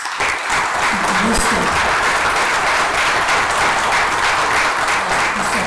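Steady audience applause for panelists at an evening political theology forum on civic education, dense clapping filling the whole stretch at close, even loudness.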